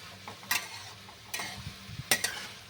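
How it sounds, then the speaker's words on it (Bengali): A spoon scrapes through mixed vegetables with turmeric in a pan, likely bottle gourd greens, in three or four quick close strokes over a faint sizzle, with no talking. "এগুলো এবার মিক্স করে দিচ্ছি"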